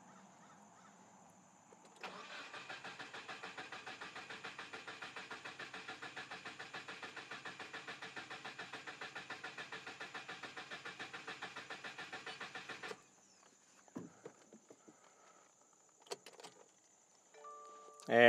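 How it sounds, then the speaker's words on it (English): A 2019 Subaru WRX engine cranking in clear flood mode after an oil change, a long even rhythmic starter whir lasting about eleven seconds without firing, followed by a few clicks and clunks. "that was the clear flood mode crank to get the oil circulating through the pump into the new filter"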